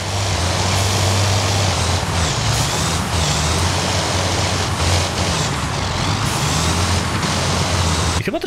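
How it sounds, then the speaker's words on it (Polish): A heavy truck engine in the Heavy Duty Challenge truck simulator game: a loud, continuous low diesel rumble with changes in throttle and brief hissing bursts, close and alone. "Wcześniej ta ciężarówka tak nie brzmiała."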